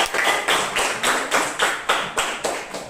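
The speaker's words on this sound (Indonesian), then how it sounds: "Tepuk tangan semuanya." A fourth-grade class claps in unison during an Islamic studies lesson, about nine crisp, evenly spaced claps in a steady beat, close and bright, with no talking over them.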